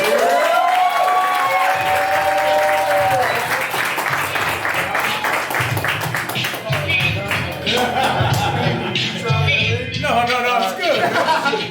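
Audience at a Pennsylvania chapter mastermind meeting claps and cheers for nearly twelve seconds, loud and sustained, with shouting voices and talk mixed in over the clapping.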